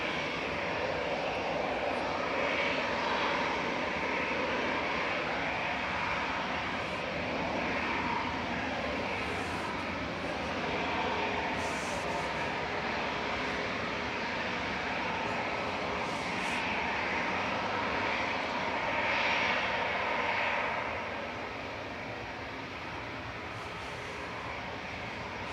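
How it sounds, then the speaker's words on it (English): EasyJet and Ryanair jet airliners depart Manchester Airport with a loud, continuous broadband engine roar that holds steady, then eases slightly toward the end, heard outdoors with no talking. "We've got EasyJet that you can hear in front of us, and another Ryanair's departed"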